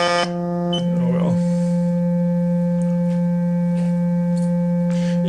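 A steady, pure sine wave tone from a Feeltech FY2300 function generator drones continuously and loudly, with a brief burst of shifting tones near the start.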